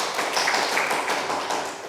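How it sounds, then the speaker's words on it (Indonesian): Steady applause from a classroom of students, dense overlapping claps held at an even level throughout the short stretch, with no talking over it. "Tepuk tangan dulu."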